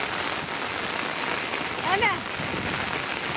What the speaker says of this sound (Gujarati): જોઈ લે તારી વરસાદ જો અમારા ગામમાં